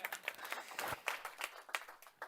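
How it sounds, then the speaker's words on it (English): Small, faint applause from a conference audience during a corporate capital markets day breakout session, a few scattered claps in an uneven rhythm that fades quickly. "He almost deserves a small applause"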